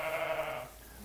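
Sheep bleat on a sheep farm raising lambs, one sustained, wavering bleat close by and fairly loud, fading slightly toward the end.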